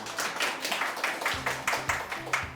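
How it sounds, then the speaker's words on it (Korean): An audience at a university award ceremony claps in a fairly quiet, rhythmic patter of distinct hand claps that keeps going evenly throughout. "박수 부탁드립니다"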